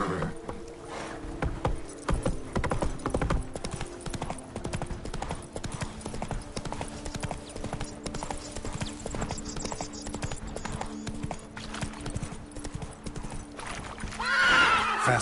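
Roach, the horse in The Witcher 3, gallops with rapid, close hoofbeats and lets out neighs, loud and continuous with a swell at the end.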